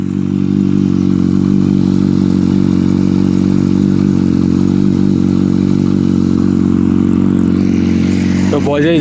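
A Kawasaki H2 superbike idles after a cold start, a loud, steady, close engine drone with an even low throb for the whole stretch and a brief clatter near the end.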